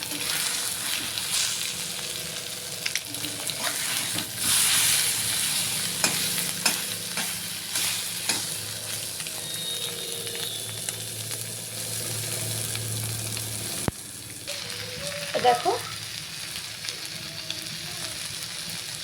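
Salted eggs sizzle in a frying pan as they are broken up and stirred, a steady crackling fry with intermittent scraping strokes, and a voice speaks briefly.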